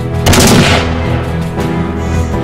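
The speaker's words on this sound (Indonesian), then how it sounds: "Fahrokra Parsa harus dieksekusi mati di depan regu tembak." Gunshot from a firing squad execution, a single loud close blast with a rumbling tail that dies away over about two seconds.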